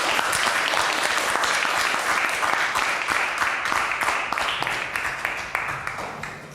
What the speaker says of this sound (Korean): 지금까지 주셨던 박수보다 더 힘찬 박수 부탁드립니다